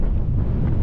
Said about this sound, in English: That was the maximum gust